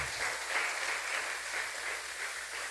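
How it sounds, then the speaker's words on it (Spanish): Church congregation applauding together during a sermon, a steady, even wash of many hands clapping with no talk over it. "Denle una ofrenda de palmas a Jesús"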